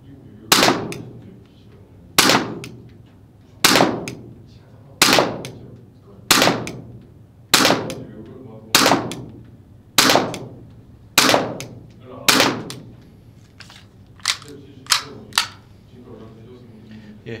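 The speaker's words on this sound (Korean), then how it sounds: "10발 사격 했어요" Airsoft gun fitted with a Miyagawa hop-up rubber, fired at a target 8 m away: a series of sharp, close cracks, roughly one every second or so, quickening slightly toward the end.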